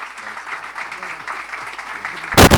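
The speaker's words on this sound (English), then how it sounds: "A big round of applause, ladies and gentlemen." Audience applause breaks out at a film trailer launch event, a dense burst of clapping rising loudly at the very end after a stretch of background crowd murmur and chatter.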